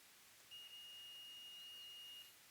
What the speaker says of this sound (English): I've got my ohm meter set to beep